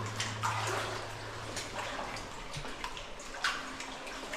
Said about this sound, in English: I'm trying to make my way through the cloudy water back out here as I'm stepping on